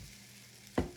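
Pear waffle batter in a hot waffle iron gives a sudden, brief sizzling burst near the end, loud against a quiet kitchen background.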